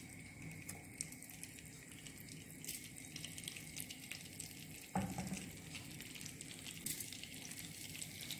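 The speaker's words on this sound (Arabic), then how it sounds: "دابا سخنا هاد الزيت مزيان غنبدا نقلي ان شاء الله" Hot oil frying steadily for a home dinner, a continuous even sizzle and crackle throughout, with a brief louder clatter near the middle and no talking.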